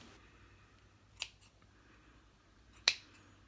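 Two sharp snips from shears cutting leaves off a Cattleya labiata amesiana orchid with black rot, one at a time with a pause between them, each a crisp close click over quiet room hum.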